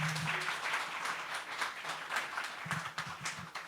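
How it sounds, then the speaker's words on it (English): Audience at a brand-building workshop giving a round of applause to welcome the trainer, an uneven patter of clapping hands, fairly quiet and slightly distant, over a short span. "with a big round of applause, let us welcome our trainer for today, Mr. Avinash Gupta."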